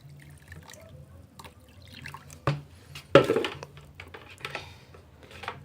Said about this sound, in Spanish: Vamos a colocarle un poquito de agua para que la motobomba no se nos dañe.